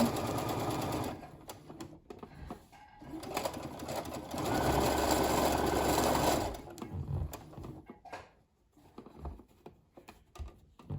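A sewing machine stitches fabric for a face mask in close, rapid mechanical bursts, running for a few seconds, pausing, then starting again with short runs and faint handling noises.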